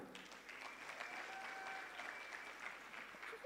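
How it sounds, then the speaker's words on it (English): A conference audience at Sun City Resort applauds with steady, even hand clapping that stays fairly faint and distant throughout. "Can I hear those claps of hands?"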